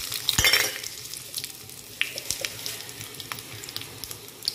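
Cinnamon, chilies, mustard seeds and curry leaves crackle and sizzle in hot oil, with a burst of sharp popping at the start settling into steady, close frying crackles.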